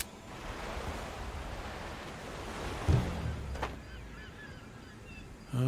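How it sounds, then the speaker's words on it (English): Salty seawater washes across a ship's deck in the pirate game Tortuga: A Pirate's Tale, a broad continuous rush of surf with a brief thump midway. "Salty water washes across the deck as the crew readies itself to board the enemy ship."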